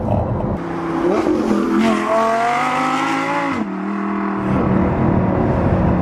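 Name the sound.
Audi R8 engine revving with Capristo exhaust system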